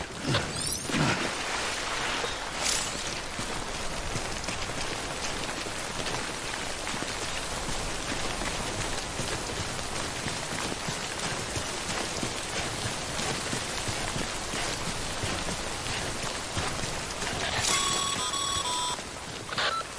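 Steady timefall rain pours continuously in the video game Death Stranding, a dense even hiss throughout, with a brief electronic beeping near the end; no talk.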